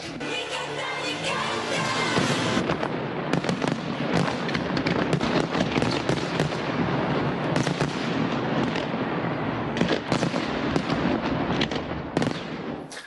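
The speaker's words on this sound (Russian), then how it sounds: "Завершился праздник салютом на Красной площади." A dense fireworks display over Red Square in Moscow crackles and booms continuously, with many overlapping bursts and sharp pops at varying distances.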